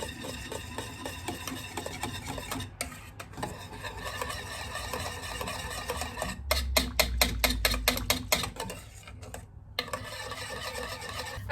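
Cream for a magnolia dessert being beaten with a whisk, steady rapid mechanical whirring and rattling against a bowl, louder in the middle stretch, heard alone without talk.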